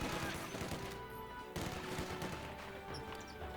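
Machine gun and rifle fire crackle in dense rapid bursts in a strategy video game, a steady barrage of overlapping shots with short gaps, sounding mid-distance and fairly loud, with no voices over it.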